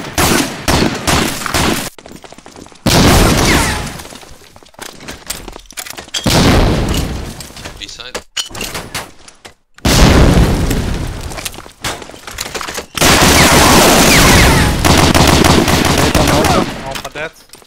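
Grenade blasts and heavy automatic gunfire in a competitive shooter match, loud and close, arriving in several separate bursts and booms with short gaps between them and faint voices under parts of the exchange.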